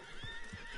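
A horse in Red Dead Redemption 2 gives a faint, brief snort and a soft hoof clop under a steady wash of game ambience.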